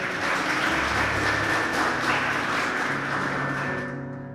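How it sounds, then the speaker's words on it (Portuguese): A church congregation applauds together after a sermon, a dense, sustained wash of many hands clapping at moderate distance, with faint tonal background sound, tapering off toward the end. "Dê um aplauso para o Senhor Jesus."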